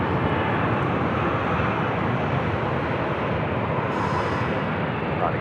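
A Boeing 747 arriving on the south side at LAX produces a continuous, fairly loud broadband jet roar that holds steady throughout, with no talking.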